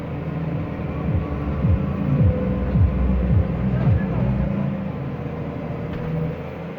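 A tractor driving a rotary harrow through its PTO at about 540 rpm, a loud low engine drone with repeated falling pitch sweeps as it revs and pulls away, then settling to a steady run.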